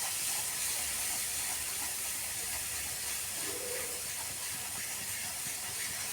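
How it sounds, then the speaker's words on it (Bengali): Spices being sautéed over medium heat for a spicy fish egg curry, giving a soft, steady hiss of sizzling with no talk. "মশলাটাকে খুব ভালো করে কষিয়ে নিচ্ছি।"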